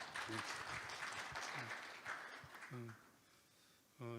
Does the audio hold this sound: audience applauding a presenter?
yes